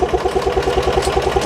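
Small gasoline engine on an assembly project sputtering as it tries to start on old gas, with a loud, close, rhythmic chugging pulse that never catches into a steady run.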